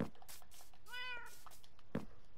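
A single short Minecraft cat meow rises and falls, fairly faint, amid a few soft taps and light background noise.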